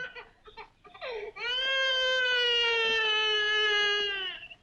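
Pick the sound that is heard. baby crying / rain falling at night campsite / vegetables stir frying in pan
baby crying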